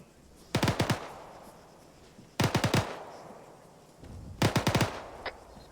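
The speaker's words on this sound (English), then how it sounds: "Got shots fired to the northeast" Three short bursts of automatic gunfire from the ArmA 3 military shooter, each a rapid string of four or five sharp cracks, spaced about two seconds apart at mid distance, with a quiet outdoor ambience between and no talking.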